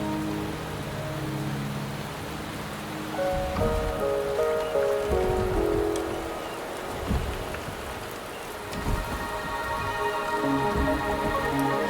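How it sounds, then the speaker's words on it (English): Rain falls steadily in the Wuthering Waves video game, a continuous patter on surfaces with denser and lighter spells, layered over soft tonal game music and with no talk. "The rain is subsiding, and the sky will soon clear."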